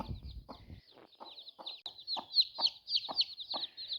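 A series of soft, repeated hen clucks comes at a steady pace indoors, with high chirping peeps of chicks running above them throughout.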